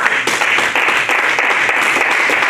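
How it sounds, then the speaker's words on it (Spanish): A church congregation claps during a Sunday service, loud and close, a dense steady applause from many people filling the whole stretch. "Un aplauso"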